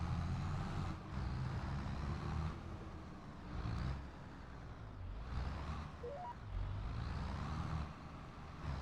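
Truck passing on a road in Farming Simulator 22, a low steady engine rumble that swells and fades in waves with brief beeps partway through, moderately distant and with no talking.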